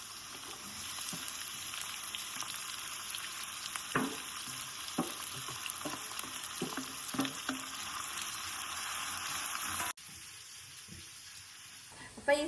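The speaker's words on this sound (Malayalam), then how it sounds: "അപ്പൊ നമുക്ക് ഇതിനകത്തോട്ട് കുറച്ച് നമ്മൾ അരിഞ്ഞു വെച്ചിരിക്കുന്ന ഉള്ളി, സവാള ഇട്ട് കൊടുക്കാം." Sliced onions and garlic sizzle steadily in a pan, with a spoon scraping and clinking at intervals as they are stirred.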